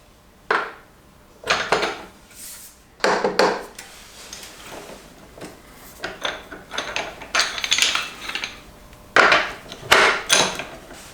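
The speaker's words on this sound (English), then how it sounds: "is to loosen the front axle, and for this we will have to use a large hex or Allen key of size 19" Metallic clanks and knocks from a large 19 hex key and long bar working loose the front axle of a Suzuki V-Strom 800 motorcycle, a series of separate sharp hits and rattles spread irregularly through the clip.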